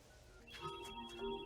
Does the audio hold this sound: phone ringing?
yes